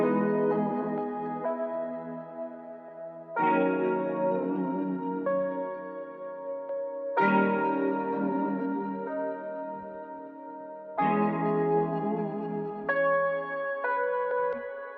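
Layered ambient R&B synth melody processed with ShaperBox, UJam Voodoo distortion, delay and EQ, playing sustained chords in four swelling phrases with trailing echoes, steady and fairly loud with no voices.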